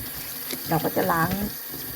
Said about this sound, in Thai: เราก็จะล้างนะคะ ล้างน้ำเกลือออกนะคะ